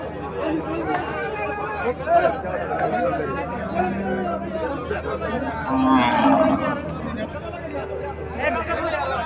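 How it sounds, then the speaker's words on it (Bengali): Dairy cows at a busy cattle market, one lowing now and then amid a constant hubbub of people talking, with the animal calls fairly close. "এখানে আর একটা গাভী দেখা যাচ্ছে।"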